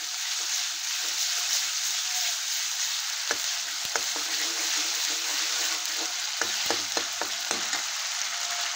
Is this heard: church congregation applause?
no